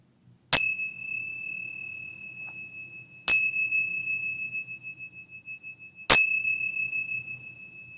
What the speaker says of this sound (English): And preparing to open your eyes as I ring the bell.